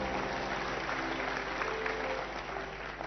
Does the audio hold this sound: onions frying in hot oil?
no